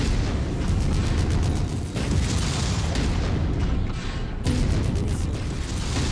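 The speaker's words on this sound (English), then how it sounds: "Yep, the other catapult's shooting at me." Catapult mech missiles slam in as explosive shots in MechWarrior 5, a heavy continuous barrage of booms and bursts, loud and close, with rumbling low end and crackling impacts throughout.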